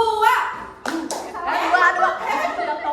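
Children in a classroom clapping game strike two sharp, close claps in quick succession, with young voices chattering around them.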